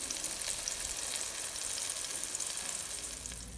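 Cube steaks searing in a hot pan, two at a time, give a steady, close, crackling sizzle with fine popping spatter throughout.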